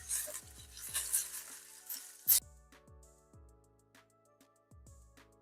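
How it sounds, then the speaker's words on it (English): Pork strips stirred in a hot frying pan, with repeated spatula scrapes and light metallic taps over a quiet sizzle, close and fairly faint. "I'm going to mix it up until they're pretty much all separated again"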